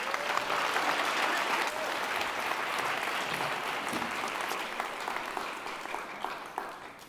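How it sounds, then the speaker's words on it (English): Sustained audience applause after a research talk, a dense, even wash of many hands clapping at steady volume, easing slightly near the end. "big round of applause for Behzad"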